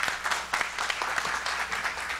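Brief applause from a seated audience at an academic symposium, a dense patter of many hands clapping at moderate volume, heard close and without talking.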